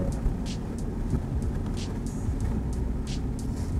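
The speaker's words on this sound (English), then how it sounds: "It's actually kind of quiet at idle. Like, it doesn't idle rough." A stock 1995 Efini RX-7 twin turbo, right-hand drive, idles smoothly and quietly, a steady low hum with no roughness, heard close and alone.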